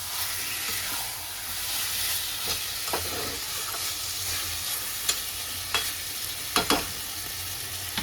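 Chicken kosha sizzles steadily as it fries in a pan, with scattered clicks and scrapes as it is stirred, a continuous close frying hiss throughout.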